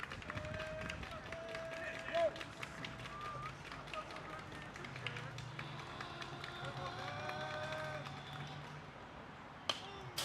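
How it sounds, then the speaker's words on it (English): A high school varsity baseball team claps in rhythm from the Indians' dugout, faint and distant taps repeating steadily across the whole stretch beneath open ballpark ambience and occasional voices. "Rhythmic applause going on the Indians' dugout"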